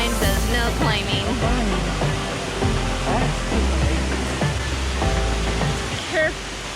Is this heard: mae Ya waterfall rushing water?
yes